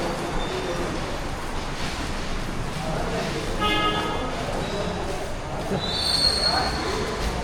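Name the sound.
Sangameshwar railway station, train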